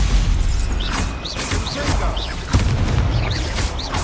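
Stupefy spell blasts in Hogwarts Legacy thump through loud battle noise, a series of booming hits with whooshing effects repeating roughly every half second.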